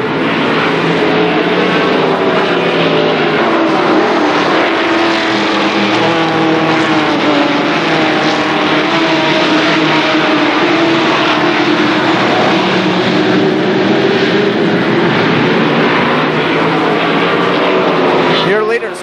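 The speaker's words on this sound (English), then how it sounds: "They pick up the throttle through turns 3 and 4. Green flag, and we are back to racing." Stock cars roar at Columbus Motor Speedway as the field picks up the throttle through turns 3 and 4 on a green-flag race restart, a loud continuous multi-engine drone with shifting pitch, with a commentator talking over it.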